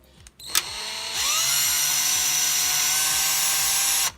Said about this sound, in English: Since I really don't care, just use a drill. Just use a freaking drill.